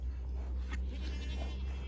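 A goat in a herd gives a short bleat close by over a steady low rumble, with no talking.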